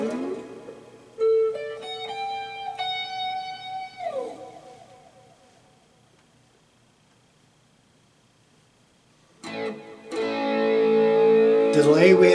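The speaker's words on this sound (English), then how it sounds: "We've got the AC boost with some overdrive." An electric guitar plays through a Positive Grid Spark 40 practice amp with an AC boost and overdrive, sounding as sustained chords that ring out and fade to near silence before a louder, more distorted passage starts.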